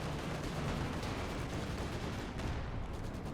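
Anti-tank gunfire in Company of Heroes 2 during a 4v4 tank battle, a fairly quiet, continuous rumble of distant shots and blasts layered under game ambience, with no voices.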